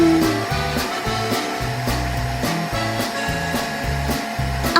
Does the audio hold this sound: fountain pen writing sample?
no